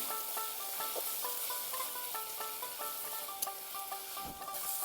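Ginger, garlic and spices frying in a pan with a steady sizzle, while a spoon scrapes and stirs through them in quick repeated strokes, close by, with no talking.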